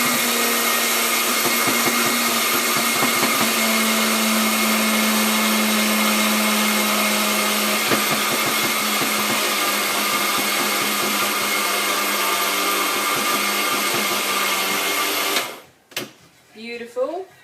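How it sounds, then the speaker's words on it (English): A blender grinds chia seeds and hummus into a raw cracker mix, running loud and steady for about fifteen seconds before it cuts off. "So you don't want to grind it too much, because if you grind it too much, it's going to turn like, it's going to get the butter out"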